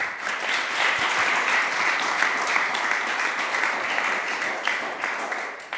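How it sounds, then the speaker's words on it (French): Applause rises from the audience at a parish talent event for a guest, a steady, dense crowd clapping that stays loud and even for several seconds before easing at the close. "On vous applaudit, Madame Châteauneuf"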